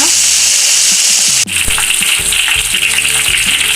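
Loud, steady sizzling of gambolo fish deep frying in hot oil, with a brief dip partway through followed by crackling bursts and clinks, no voices.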